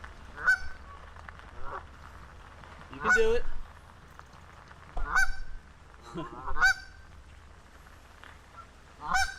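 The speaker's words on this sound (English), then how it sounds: "family of geese coming up." Geese on the Delaware Canal honk in loud, scattered bursts, five or six calls spread across the stretch, with a person speaking briefly between them.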